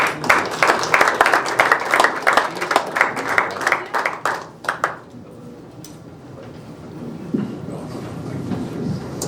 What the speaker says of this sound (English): give Kathy Keena a nice round of applause